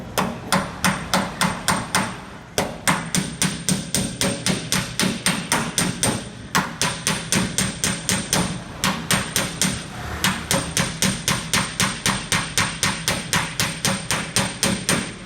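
Small round polished hammer striking a car body panel backed by a dolly, a steady rapid series of sharp metallic taps, close and loud, with brief pauses between bursts and no talking.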